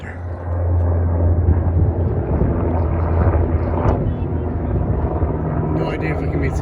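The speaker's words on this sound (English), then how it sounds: "an Apache helicopter." An Apache helicopter flies overhead near Hoover Dam, its steady rotor and engine roar loud and sustained, mixed with wind buffeting and light talk.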